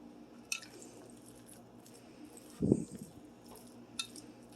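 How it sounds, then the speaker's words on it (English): Spoon stirring drained canned chickpeas into casserole stuffing, with a faint tap, one soft wet squishing scrape in the middle and another light clink near the end, close and quiet. "You're going to grab your spoon and get them all mixed in with the stuffing."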